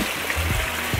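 Steady running water from the Fontana dei 24 Cannoli in Leonforte, a continuous close splashing stream with no talk over it.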